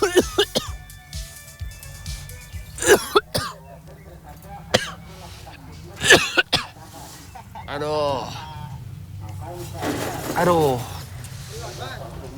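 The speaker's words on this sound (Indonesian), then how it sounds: "abunya, wah, membuat saya batuk-batuk terus pemirsa" A man harvesting coconut-shell charcoal from a drum coughs repeatedly from the ash, several sharp hacking coughs and throat clearing close to the microphone, mixed with short bursts of speech.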